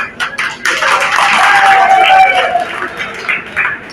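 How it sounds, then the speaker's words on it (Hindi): An audience at a mushaira poetry gathering breaks into a short burst of applause, with crowd noise and voices around it. "मैं चाहता हूँ कि आप अपने लिए खुद एक बार ताली बजाएं।"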